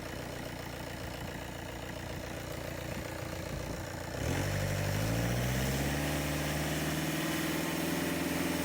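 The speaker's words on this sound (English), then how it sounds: "the engine revs are up" Car engine idling steadily, then its RPM rises halfway through, the rumble jumping louder and the pitch climbing to a higher sustained hum, heard close with no voices.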